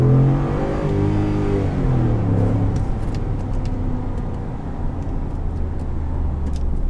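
A 2016 Ford F150 Lariat pickup engine revs steadily after a downshift into first gear, a close, loud drone with rising harmonics that fades into a rumbling idle, with no one speaking over it.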